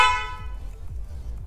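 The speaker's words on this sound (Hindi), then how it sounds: "ये आपको हॉर्न की साउंड सुनाता हूँ एक बार" A short Yamaha R15 motorcycle horn blast at the start, bright and harmonic, cutting off quickly and leaving low engine-like rumble with faint background noise.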